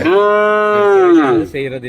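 A cow lows loudly and close at a Pongal cattle festival in Jaffna, one long sustained moo that falls off at the end, with crowd noise faintly behind.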